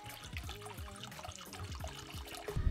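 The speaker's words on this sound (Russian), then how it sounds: "в нее наливаем 1 литр красного сухого вина" Dry red wine pours and splashes steadily into a large saucepan on the stove, a gurgling, bubbling stream close by, quiet and continuous.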